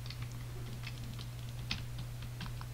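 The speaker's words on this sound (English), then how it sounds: "I would like you to listen to our clicking noises for a few moments." Computer keyboard keys clatter in quick irregular bursts during late-night gaming on a laggy computer, close and fairly quiet over a steady low electrical hum.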